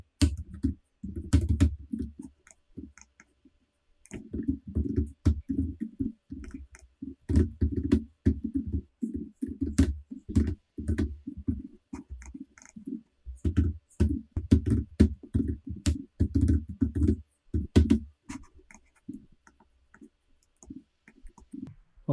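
Rapid keyboard typing while writing Lightning Web Component code, with bursts of close, crisp key clicks broken by short pauses and no voices.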